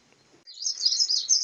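A coal tit chirping just after being untangled from a catching net: a short, close, high-pitched wavering call that starts abruptly after a brief quiet moment.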